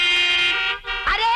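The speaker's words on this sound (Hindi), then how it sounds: "अंदर बैठ के हॉर्न बजाता है" A car horn sounds in a long, loud, harmonic-rich blast, breaks briefly, then returns in a second shorter honk, close by on a night street.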